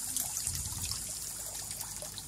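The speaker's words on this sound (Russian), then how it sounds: "Журчат воды Тайваня." Water murmurs and trickles softly in a stream in Taiwan, a faint, continuous babble with small bubbling splashes.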